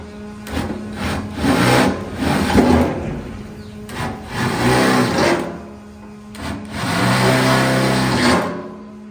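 A half-inch drill bit bores through wood to make a starter hole for a jigsaw blade, heard as several loud, close grinding bursts with brief pauses between them.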